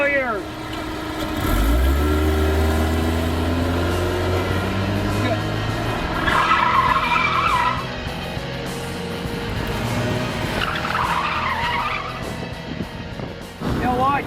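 A car is flung through a maneuver at a stunt driving school. The engine revs rise and fall, and a tire squeal and skid follow, fairly close to the listener.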